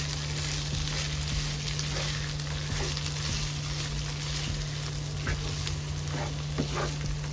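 Red rice with smoked sausage in a pot gives off a soft, steady sizzle with faint intermittent stirring scrapes under a constant background hum, fairly quiet and continuous.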